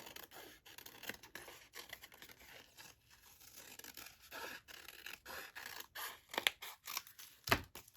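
Scissors snipping through paper to make paper feathers, a string of close, quiet crisp cuts and light paper rustles with no talking.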